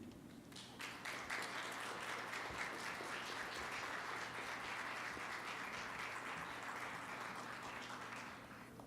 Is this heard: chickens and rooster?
no